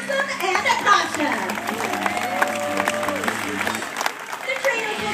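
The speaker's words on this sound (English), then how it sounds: "how about one big round of applause for Maxim and Akasha?" An audience at a tiger show gives scattered applause and cheering, with children's voices and crowd chatter mixed through a busy, echoing venue.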